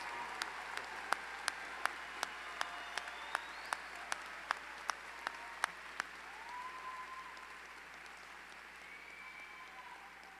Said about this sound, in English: How about another round of applause for our newest Masters in Educational Specialist recipients?